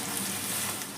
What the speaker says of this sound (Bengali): কচুরলতিগুলো তেলের মধ্যে আমি খুব ভালো করে নেড়ে নিচ্ছি।